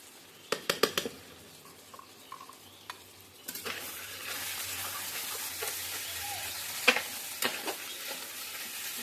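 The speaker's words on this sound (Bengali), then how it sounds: "এখন তেলের সাথে নেড়ে নিলাম সরষা" Mustard paste, ground with green chillies, stirred and frying in hot oil in a pan for a fish dish; a steady sizzle fills the second half after sharp utensil scrapes and taps at the start.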